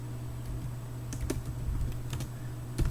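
Quick keystrokes typing code on a computer keyboard, with a few sharp taps over a low steady hum, including a press of the Enter key.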